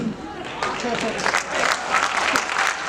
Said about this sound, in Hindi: शायद आपकी तालियां उठे